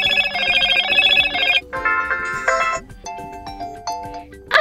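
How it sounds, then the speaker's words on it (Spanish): A Motorola Edge 50 Neo phone plays a melodic electronic ringtone, bright chiming notes changing pitch in several phrases, loud and close with no talking. "Nosotros vamos a cambiar simplemente un tono de llamada de una de las tarjetas SIM."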